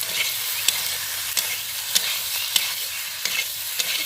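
A ground paste of coriander, cumin, garlic and ginger sizzles in a pan while a spatula scrapes through it in sharp, regular strokes, close and fairly loud.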